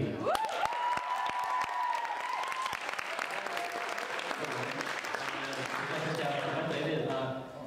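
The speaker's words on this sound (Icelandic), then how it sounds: "Já, það má klappa fyrir því." Applause from an audience at a song and songwriting competition fills the clip steadily, with a voice and a sustained tone heard over the clapping near the start.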